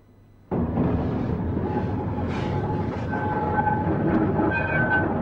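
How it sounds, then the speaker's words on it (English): A tram pulls in with a sudden onset of loud, steady rumbling and rattling wheels on rails, with squealing metallic tones rising over it and no talk. "here's the tram"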